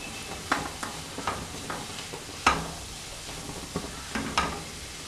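Beetroot and spinach thoran being stirred in a pan, with a series of scraping, clacking spatula strokes at irregular intervals over a soft sizzle, close and fairly quiet, no talking.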